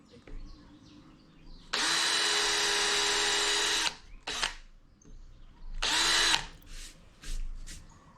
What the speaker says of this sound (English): to drill the pilot holes.